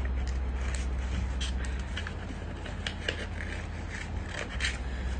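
Repeated snips and scraping of scissors cutting through material, close up, in an irregular rhythm.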